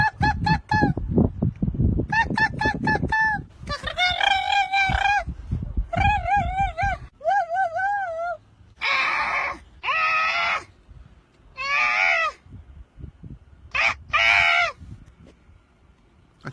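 A person imitates bird calls outdoors with a string of loud, harmonic honking and cawing bursts in short, irregular groups, separated by brief pauses.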